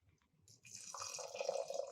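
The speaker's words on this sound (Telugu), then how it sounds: "1కి 2 నీళ్ళు పోసి స్టవ్ మీద పెట్టేద్దాం" Water poured into a pot for sweet pongal with rice: a soft dribble at first, then a steady filling gush, close but quiet and brief.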